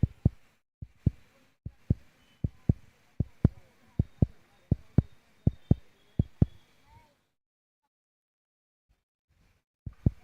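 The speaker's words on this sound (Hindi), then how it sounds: "दिल की धड़कन यही कर रही होगी" A heartbeat sound effect of paired thumps repeating steadily for about six seconds, then a long silence before another lone beat near the end.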